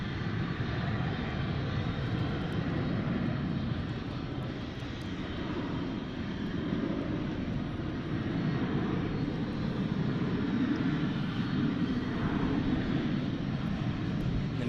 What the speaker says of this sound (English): Then we got planes over here.